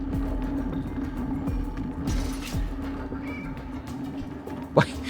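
A cat meows in the video game Stray, a rising cry near the end over a steady hum of game ambience and faint mechanical creaks.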